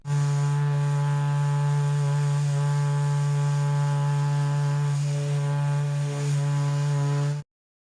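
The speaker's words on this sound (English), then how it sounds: "we need to go out and sand out the rest of these chips on the front of this hood" Power sanding on a car hood to feather out paint chips: a loud, steady motor drone with a strong low hum and buzzy overtones runs evenly for about seven seconds, then cuts off abruptly.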